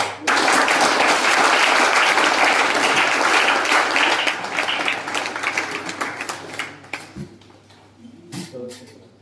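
An audience at a motivational lecture breaks into dense, loud applause that holds steady, then thins into scattered individual claps and fades, with a voice emerging near the end.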